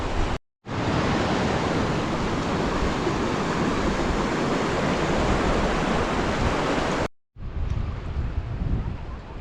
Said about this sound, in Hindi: ये आप चेक करें कितनी खूबसूरत वाटर स्ट्रीम है, छोटी सी है मगर जिगजैग करती हुई इस मैदान के अंदर से गुजर रही है।